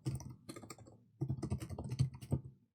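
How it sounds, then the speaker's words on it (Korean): Typing on a computer keyboard, close and fairly quiet, comes in two quick bursts of rapid key clicks split by a short pause, with no talk. "아, 요즘에는 한글 이 타자도 느린 것 같아요"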